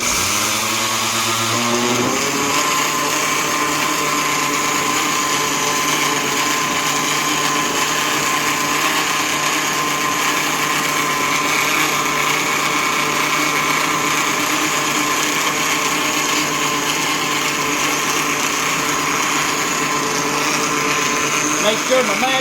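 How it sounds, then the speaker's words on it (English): A kitchen blender purees at high speed, spinning up over the first couple of seconds and then running as a loud, steady whirring drone right up close, with no clear talk over the motor. "let's go to the puree and blend"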